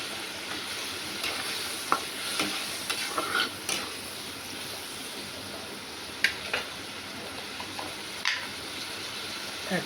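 Tomatoes with chili, turmeric and coriander powder fry in a pan for Bengali egg curry: a constant soft sizzle broken by sharp, irregular spoon scrapes and clicks as the mixture is stirred.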